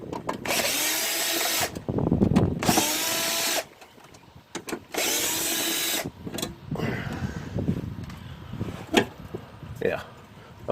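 Power tool running in loud whirring bursts against a 7mm screw on the headlight of a 2008 Infiniti QX56, with short pauses between runs and then quieter handling sounds and clicks near the end.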